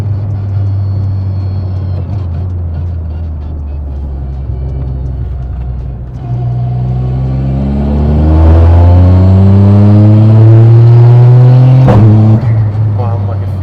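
Sequential-gearbox Toyota GR Yaris accelerating hard, its engine note climbing in repeated rising sweeps, a sharp gearshift crack near the end, then pulling again, loud and close from inside the cabin.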